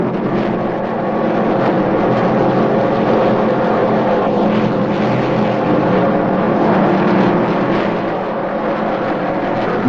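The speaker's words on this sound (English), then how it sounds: "the heavily laden boats are trimmed for top speed" Heavily laden racing powerboats at the start of the 1980 world championship in Melbourne, making a continuous, loud, steady engine roar that builds as the fleet speeds away.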